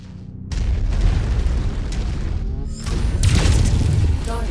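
Explosions of destroyed targets in the MechWarrior 5: Mercenaries video game, with deep booming blasts right after a short silence and a second, brighter burst near the end, loud and rumbling throughout.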